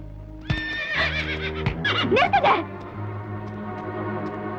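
A horse gives a loud, close whinny lasting about two seconds, rising and falling, with a few hoof-like knocks and steady background hum around it.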